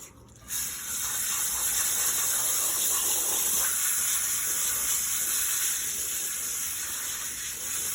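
Running water rushes in a steady hiss as dirt is washed off a clump of moss for a kokedama bonsai. The sound starts after a brief pause and stays close, with no talk.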